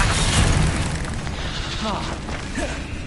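Spell blasts burst out in Hogwarts Legacy, a broad booming explosion opening the clip, then continuing rumble and crackle with brief magical swooshes layered over the game's steady ambience.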